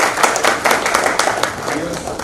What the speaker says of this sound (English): One more round of applause for Ravi